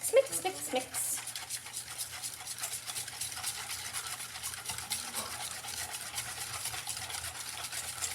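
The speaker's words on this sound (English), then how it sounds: "Now we're gonna mix all this up. Mix, mix, mix." Blueberry muffin batter being stirred in a bowl, a soft continuous scraping and swishing that runs steadily throughout, fairly close.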